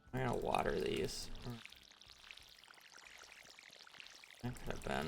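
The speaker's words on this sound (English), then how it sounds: "I'm gonna water these." Crops are watered in the Stardew Valley video game, a soft splashing pour heard faintly between stretches of someone talking at the start and end.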